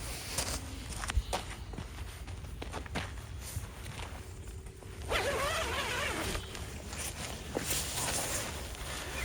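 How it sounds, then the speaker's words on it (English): A zipper on a Lone Rider ADV motorcycle tent is worked open and shut, giving a continuous close, scratchy rasp over the last few seconds after quieter rustling and footstep-like shuffles. "The zippers seem to be high quality."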